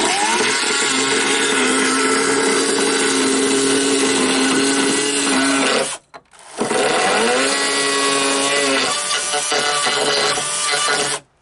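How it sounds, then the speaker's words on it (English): A chainsaw runs at full throttle in two long loud bursts, biting and bogging as it cuts wood, with a brief drop in between. "So I'm going to take my chainsaw and cut those off."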